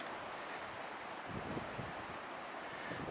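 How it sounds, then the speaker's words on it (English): Wind blows steadily across the microphone in a low, rushing roar on a hilltop along the Superior Hiking Trail above Grand Marais, gusting slightly stronger toward the end. No one speaks. "And it's windy up here."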